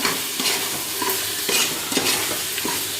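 Mushroom biryani masala stirred in a pan, a spoon scraping and turning the mix in repeated strokes over a steady low sizzle, close and fairly loud with no voices.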